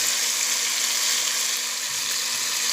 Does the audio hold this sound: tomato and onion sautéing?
yes